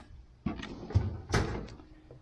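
A drawer in a home aircraft-building workshop is pushed shut, giving one sharp close with a thump and a second knock after it, close by and with no talk.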